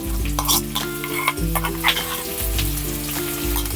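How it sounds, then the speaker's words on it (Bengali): Onion and crushed garlic fry in a pan with a loud, close sizzle broken by repeated stirring scrapes and clinks. "যে রসুন আর পেঁয়াজ আরও কিছুক্ষণ ভেজে নেব"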